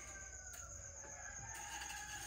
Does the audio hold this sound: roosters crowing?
yes